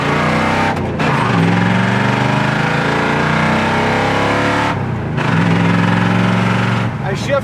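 A 1972 Mercury Comet GT with a 3-speed gearbox accelerates hard, engine note climbing, then dropping at a quick shift into second and rising again; the loud, close drone runs continuously with a brief gap near the end.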